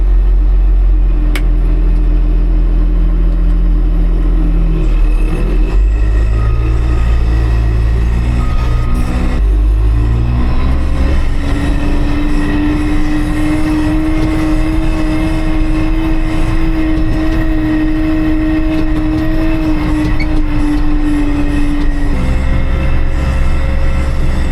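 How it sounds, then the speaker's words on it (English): Heavy haul truck driving up onto a lowboy semi trailer, a loud steady diesel engine drone with a shifting pitch that rises and holds as it climbs aboard, close and continuous. "let's grab the haul truck and drive it up on here"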